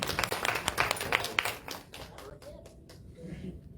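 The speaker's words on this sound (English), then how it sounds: "Round of applause." Brief audience applause at a campus political networking mixer, a burst of clapping that thins out and fades within about two seconds, followed by quiet room noise and a voice.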